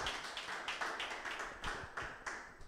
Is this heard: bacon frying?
no